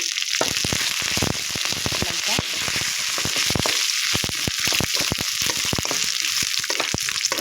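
Dried red chillies, curry leaves and chana dal fry in oil on a low flame for poha upma: loud, dense crackling and popping sizzle throughout, close up and without talk.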